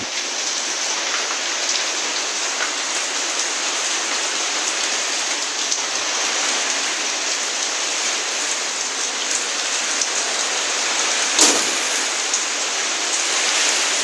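Heavy rain from Cyclone Remal pours steadily on a pigeon loft in Khulna, a loud, even wash of hiss with no talk and one brief sharper splash.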